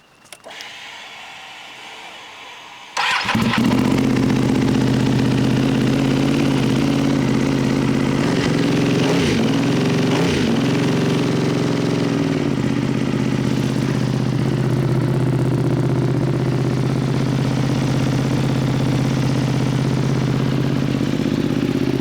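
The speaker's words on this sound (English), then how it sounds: "let's get this bike outside and start it up" Ducati Panigale motorcycle firing up outdoors after a quiet moment, its engine catching abruptly, then settling into a loud, steady idle with a few brief blips of throttle early on.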